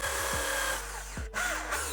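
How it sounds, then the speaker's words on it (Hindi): Electric drill bores a hole in a part for a homemade rechargeable table lamp, a close, continuous whining grind with brief dips in pitch as the bit bites, then a short pause before it resumes. "तो चलिए हम इसमें ड्रिल मशीन की मदद से होल कर लेते हैं।"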